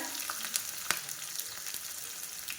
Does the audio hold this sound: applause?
no